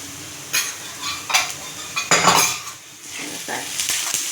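A spoon scrapes and clanks against a pan while ginger-garlic paste is stirred in. The metallic strokes come in uneven bursts over a faint sizzle of frying.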